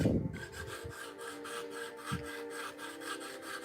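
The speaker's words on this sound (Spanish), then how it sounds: "tenemos que lijarlo" Sandpaper rasps against a small scale-model wing part in quick, regular back-and-forth strokes, close and continuous, after a brief louder knock at the start.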